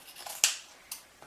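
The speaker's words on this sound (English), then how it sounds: "Now I'm just going to run my scissors right along the edge of the stool, the seat frame" Scissors trimming excess upholstery fabric along the edge of a stool's seat frame during chair cushion reupholstering: a few quiet, crisp snips, one sharper cut standing out, close and without talk.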